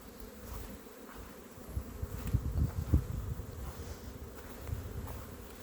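Honey bees buzzing in an apiary, a soft continuous low hum of many insects that swells briefly in the middle, faint and outdoors with no talking.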